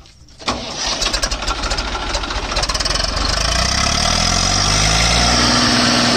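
A tractor engine cranks and catches, rising to a loud, steady diesel idle with a knocking rumble, close by. The tractor is an Eicher 5150 or a Sonalika DI 745 DLX.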